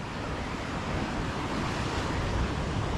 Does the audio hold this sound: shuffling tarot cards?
no